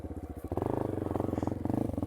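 Yamaha XT250 single-cylinder engine revving hard on a single-track trail, starting with a lumpy low idle and then surging to a loud, steady throttle pull with a fast, even pulsing beat.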